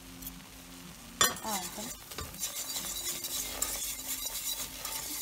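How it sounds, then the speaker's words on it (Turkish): Tomato paste sautés in a pot for tomato soup: a sharp metal clink of the spoon, then a steady hissing sizzle with scraping stirs, and a brief word spoken early on. "Salçamı da kavuruyorum."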